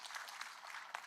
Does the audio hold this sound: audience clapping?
yes